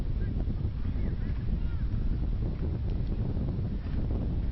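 Wind gusts steadily across an open-air college football field, a continuous broadband rush dominated by low rumble from the microphone being buffeted, with faint crowd or ambient noise beneath and no clear speech.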